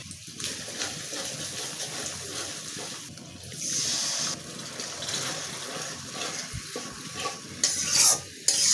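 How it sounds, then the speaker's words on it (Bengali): Ground chili, turmeric and cumin fry in a pan with browned ginger and garlic, a continuous crackling sizzle broken by scraping stirs and a few brief louder flares. "মশলাটা আমি আবার ভালো করে কষিয়ে নেব"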